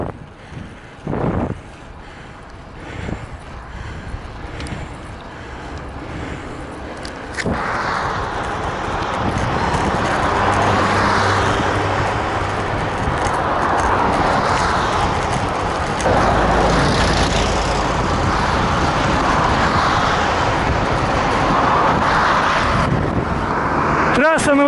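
Traffic rushing along the Novosibirsk–Barnaul highway, heard from a bicycle at the roadside, a steady roar of passing vehicles mixed with wind buffeting the microphone, with a voice talking over it.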